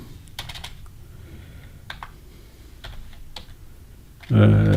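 Computer keyboard typing during a Spanish lesson, a few scattered bursts of keystrokes under quiet room tone, ending in a sudden loud burst of noise.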